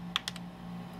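Three quick clicky key presses on an Azio Levetron Mech 5 (KB577U) mechanical gaming keyboard, close and crisp over a steady electrical hum.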